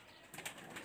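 Pigeons for sale in Faisalabad, white-eyed males among them: a faint, brief coo with a light flutter of wings in the middle, quiet and somewhat distant, without talk.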